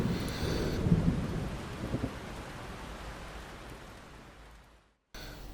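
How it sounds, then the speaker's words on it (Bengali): A roll of thunder over steady rain, a low rumbling surge at the start that slowly fades into a soft wash of rainfall, ending in a brief silence before the rain resumes. "বাইরে আবার মেঘ ডেকে উঠল"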